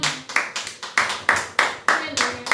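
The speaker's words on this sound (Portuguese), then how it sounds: "As palmas ao Senhor, igreja." A church congregation claps for the Lord during a worship service, in short bursts of clapping that rise and fade several times, with a voice audible in between.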